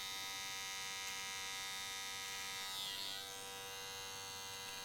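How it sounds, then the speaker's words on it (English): An electric hair outliner trimmer hums steadily and close up while cutting a clean hairline during a men's haircut, its buzz swelling briefly midway. "And then we'll come back with the outliner."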